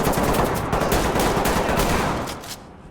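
Rapid, dense gunfire in the video game Ready or Not forms a loud, continuous burst of shots that fades off in the final half second.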